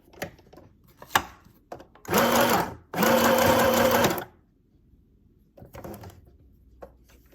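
A portable sewing machine runs a back stitch in two loud whirring bursts, each about a second long, with a short pause between and quiet handling noises around them.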